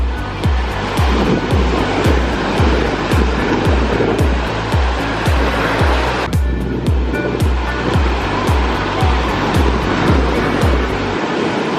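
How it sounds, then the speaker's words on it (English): Ocean surf at Big Wave Bay rolls in as a loud, continuous wash of breaking waves with a regular rhythmic pulse, close and unbroken for the whole stretch. "it's crazy how like waves just like happen out of nowhere"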